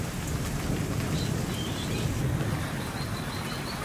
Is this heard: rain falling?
yes